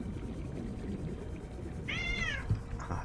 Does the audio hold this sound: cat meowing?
yes